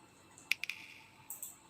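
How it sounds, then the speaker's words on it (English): A few quiet, crisp finger snaps in a short irregular cluster, followed by two more faint snaps, alone in near silence. "You've been snapping your fingers in my ears for over an hour"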